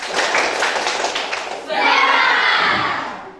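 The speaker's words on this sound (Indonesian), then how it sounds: "Tepuk semangat." A high school class claps together in a quick rhythmic pattern, loud and close, with children shouting and voices mixed in before a burst of cheering.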